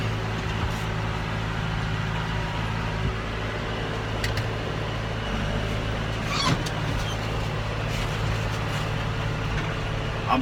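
A tractor pulls a planter across a field while planting sorghum at about 4 miles an hour in gear range B4, heard from inside the cab as a steady, loud, low engine drone with faint rattles and no talking.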